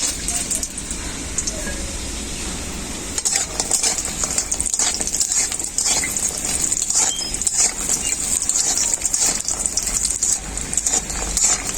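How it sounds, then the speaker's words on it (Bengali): Bori, small sun-dried lentil dumplings, fry in mustard oil in a kadai, giving a steady, fairly loud hiss with crackling bursts throughout. "প্রথমে বড়িটা ভেজে নেব।"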